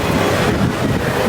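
Strong wind buffets the microphone outdoors at a theme park, a dense, loud, continuous rumble with no voices heard.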